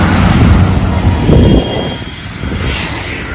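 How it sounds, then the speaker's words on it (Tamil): A Pondicherry bus passes by on the road, a loud broad engine rumble that swells at first and then eases into a steadier, fainter roar as it moves away. "பாண்டிச்சேரி பஸ்ஸு வர வருது"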